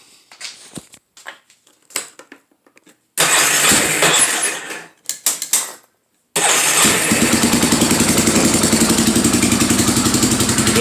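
A Yamaha Warrior 350 motorcycle engine, fitted with an aftermarket cam, cranks over in a few short bursts and then fires up. It settles into a loud, steady, close idle with an even rhythmic pulse.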